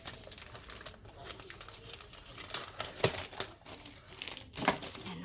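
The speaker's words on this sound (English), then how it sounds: "We will use our trusty handy scissors." Scissors snip through paper while a scrapbook layout is cut out, giving scattered crisp cuts and crinkles at close range, with two sharper snips standing out near the middle and the end.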